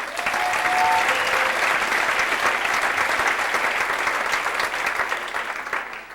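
Sustained applause from a theater audience at a juggling and magic performance, loud and dense throughout, tapering slightly at the end.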